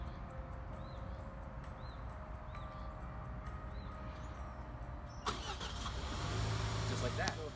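A car engine, started remotely from a phone, cranks and catches about two-thirds of the way in after a stretch of quiet ambient background, then settles into a steady, louder idle that runs to the end.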